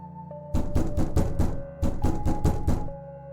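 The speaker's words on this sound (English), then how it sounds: "frantic knocking at the door." A loud, frantic knocking at a door as a horror sound effect: two bursts of rapid, heavy raps close by, separated by a short pause, over a faint steady hum.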